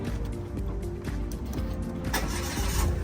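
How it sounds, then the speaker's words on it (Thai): A 2013 Mitsubishi Mirage engine cranks and starts by push button, a short whir followed by a rising mechanical hum that settles into running, close by. "ขอฟังเสียงเครื่องยนต์หน่อยครับผมเป็นปุ่มสตาร์ท"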